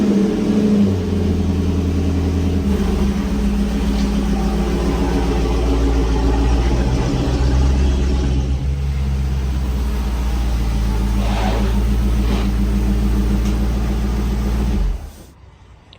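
A 2006-10 Dodge Charger engine runs steadily as the car is turned around, a loud continuous low idle drone with slight rises in pitch, cutting off abruptly near the end.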